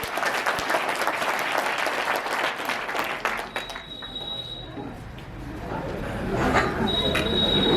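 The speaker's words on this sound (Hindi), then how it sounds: "जोरदार तालियों के साथ स्वागत।" Welcoming applause from the audience at a village kavi sammelan poetry gathering in Digrauta, dense clapping that thins out midway, with a faint tonal whine and crowd murmur.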